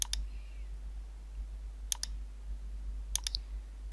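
Sharp mouse clicks while saving a file in Adobe Illustrator, a single click near the start, a quick double click around two seconds and a short cluster of three near the end, close and crisp over a quiet low hum.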